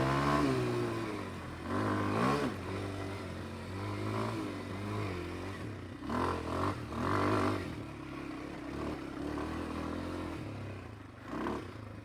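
Kawasaki KLX230R dirt bike, a 2025 beginner trail model, climbing a hill with its single-cylinder engine droning steadily and rising in short revving surges, close and fairly loud, with no talk.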